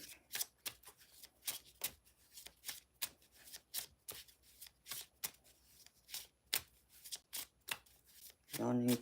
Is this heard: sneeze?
no